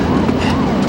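An ambulance siren wails steadily and loudly in a short burst, its pitch sweeping up and down over dense road and engine noise.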